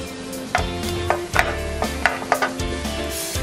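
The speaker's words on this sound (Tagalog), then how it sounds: "una natin gigisa yung ginger" Ginger sautéing in hot coconut oil, a steady sizzle broken by several sharp stirring scrapes and clacks of a utensil against the pan, close and moderately loud with no voices.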